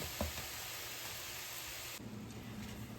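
Frozen peeled shrimp sizzle steadily in a hot pan, a soft continuous hiss with a faint brief clatter near the start, fairly quiet and with no talking.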